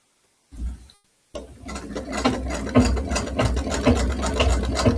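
A sewing machine stitching fabric runs steadily after a brief start-and-stop, a close, loud mechanical whir with a fast rhythmic clatter, without talking.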